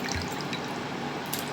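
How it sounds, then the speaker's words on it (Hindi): Tomatoes being dropped into a pot of cold water in a home kitchen give soft watery sloshing and small drips, close and continuous. "ठंडे पानी में डाल देंगे"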